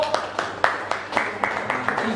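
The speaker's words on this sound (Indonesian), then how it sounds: "Tepuk tangan untuk kelompok" A classroom group claps for a student team after a science presentation on blood circulation, with a quick, evenly spaced run of about nine sharp claps in a steady rhythm.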